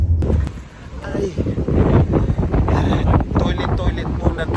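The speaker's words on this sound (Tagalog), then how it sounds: "Ang hangin dito." Strong outdoor wind buffets the microphone, roaring steadily at close range near a boat landing on a cold, exposed stretch in the Ottawa area, with voices speaking over it.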